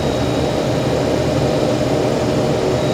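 A Fokker F27 turboprop taxis in the Prepar3D flight simulator, its engines giving a loud, steady droning roar with a faint high whine running underneath, unbroken throughout.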